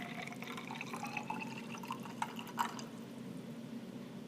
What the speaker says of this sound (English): I'll go ahead and pour carefully all of the water in.